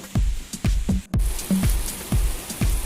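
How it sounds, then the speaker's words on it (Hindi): Heavy rain pours in Mecca, a steady broadband hiss close around the listener, with a rhythmic series of low thuds recurring about twice per second beneath it. "और बहुत तेज़ बारिश शुरू हो चुकी है"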